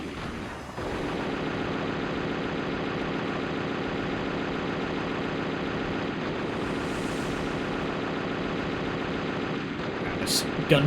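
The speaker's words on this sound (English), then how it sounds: "This gunfire noise is getting grating." Continuous gunfire from the video game Dead to Rights runs steadily throughout, a dense sustained clatter with a brief sharper burst near the end, no talk over it.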